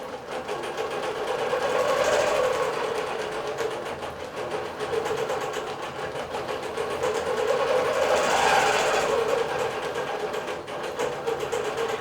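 A digital quilting machine stitching a basic pattern with polishing thread, producing a steady rapid mechanical hum and stitching rattle that swells and eases in loudness as it runs.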